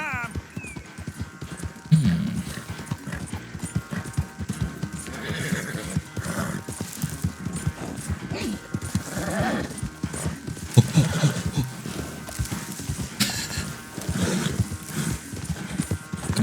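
A horse in Red Dead Redemption 2 whinnies and snorts repeatedly while its hooves clip-clop along, with game music and other effects beneath and someone talking over parts of it.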